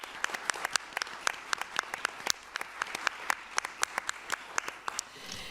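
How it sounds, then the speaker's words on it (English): A room of attendees at a Carter Center Board of Councilors meeting applauds new members, crisp distinct claps close by over a softer background of clapping, sustained for several seconds. "Let's give all our new members a big round of applause"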